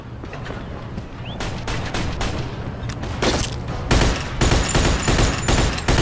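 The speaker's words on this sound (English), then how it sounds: "Who is shooting at me right now?" Intense gunfire in Mafia 2, with a firefight around a stairwell: rapid, overlapping shots and machine-gun bursts that build in density, loud and close, with no talking over them.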